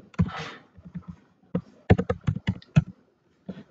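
Someone types code on a computer keyboard in quick irregular bursts of close, crisp key taps with short pauses between them.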